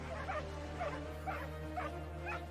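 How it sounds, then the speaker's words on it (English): Two big dogs bark and yip in repeated short bursts, roughly five evenly spaced calls, close and fairly loud over a steady low hum, while they circle and attack a porcupine. "The 2 dogs run around the porcupine and make noises to scare the animal."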